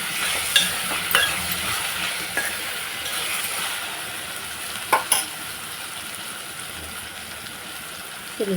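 Raw banana curry stirred in a sizzling pan, a low steady fry broken by a handful of scraping clinks from the utensil, two close together near the middle, with no talking.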